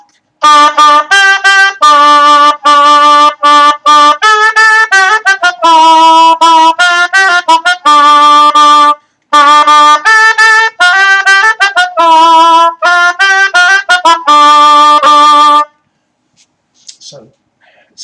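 A rauschpfeife, a Renaissance conical-bore wind instrument, plays a loud, buzzy, nasal melody with rapid detached notes and brief pauses for about fifteen seconds, then falls silent.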